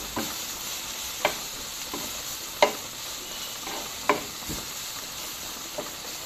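Vegetable bhaji frying in a pan on a gas stove, a continuous soft sizzle broken by several distinct scrapes and taps of a spatula stirring at irregular intervals.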